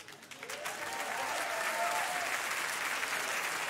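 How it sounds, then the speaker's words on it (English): A concert audience at Ancienne Belgique breaks into applause, swelling quickly from a few claps into dense, sustained clapping that fills the hall, with a faint tone beneath. "Un grand applaudissement pour Victor."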